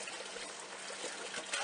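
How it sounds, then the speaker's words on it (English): Boiling water poured from a kettle into a big 18 or 20 quart roasting pan holding bouillon cubes, a steady close hissing splash that runs unbroken through the whole short moment. "I'm going to put that boiling water in there"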